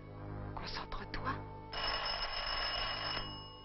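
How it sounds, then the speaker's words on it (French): A telephone rings in a sustained electric bell tone, preceded by a few broken bursts, fairly close and clear within an animated film. "Le téléphone, c'est sûrement pour toi."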